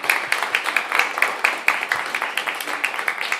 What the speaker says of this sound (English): how about one more round of applause for Fish Fisher and EmiSunshine